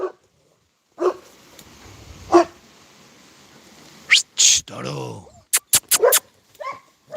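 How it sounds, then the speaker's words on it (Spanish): Farm dogs barking in the countryside, several sharp bursts and yips at moderate distance with brief gaps, followed by a quick series of loud close barks near the end; a few faint human sounds in between. "Están los perros aquí desde la finca esta"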